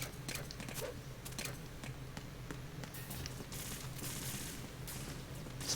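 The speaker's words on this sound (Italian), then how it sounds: "Soldati che sparano." Soldiers' gunfire in Metal Gear Solid 2 crackles faintly in the background as scattered, irregular shots and short bursts over a low ambient hum.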